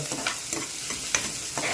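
Boiled rajma tempering in a pan, a continuous close sizzle with light, repeated stirring scrapes and clicks and no one speaking.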